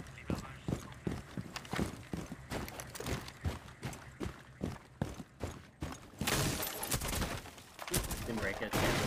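Rifle fire with an ACOG scope in Rainbow Six Siege: a steady series of sharp, evenly spaced gunshots, later merging into denser rapid bursts, loud and close with game noise underneath and a voice speaking over it.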